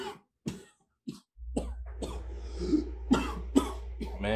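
Several sharp coughs in quick bursts, close by, followed by a low steady hum with more coughing and throat noises over it.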